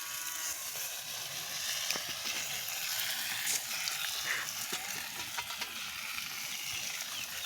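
Fish fries in oil over a village cooking fire, with a dense, steady sizzle and crackle that goes on throughout and scattered small pops.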